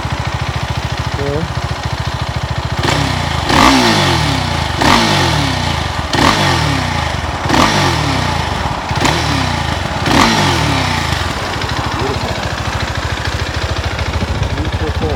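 A stock-exhaust Husqvarna Svartpilen 701 motorcycle starts and settles into a steady idle, with several sharp throttle blips spaced evenly through the middle. It is close and loud, and a voice speaks briefly near the start.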